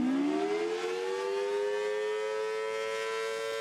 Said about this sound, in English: Here's what a dual tone siren sounds like.